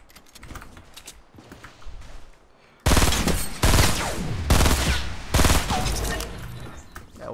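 Rapid bursts of video-game gunfire from about three seconds onward, loud dense volleys in quick succession with short gaps between them, after a quieter stretch of low in-game ambience.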